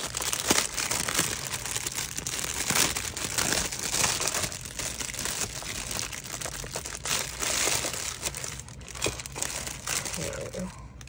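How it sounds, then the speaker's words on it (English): Crinkling plastic wrapping rustles loudly and close as an embellishment book is pulled out of it, an irregular crackle lasting the whole stretch. "let me take her embellishment book out of the plastic"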